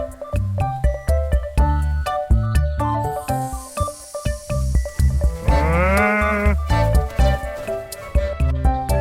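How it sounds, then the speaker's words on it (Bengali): A cow's drawn-out moo, heard once midway through, rising and falling over bouncy children's music with a steady beat. "গরু খুশি হলে বলে ছোট বন্ধুরা এটা হলো কাউ কাউ মানে গরু"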